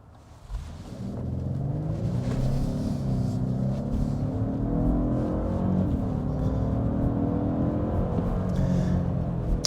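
Steady low engine and road rumble inside a 2025 Lexus LX 700h Overtrail hybrid as it drives through a right turn, a continuous even drone with tyre whir and no talk.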